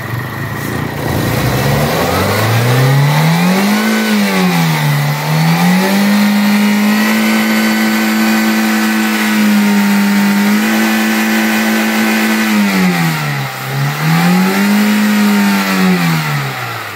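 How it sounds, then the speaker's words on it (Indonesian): A car engine revs repeatedly during a leak check, rising and falling in long sweeps: several sustained high-rpm holds with dips between them, loud and close throughout. "Jadi kita akan coba gas agak lebih kencang lagi."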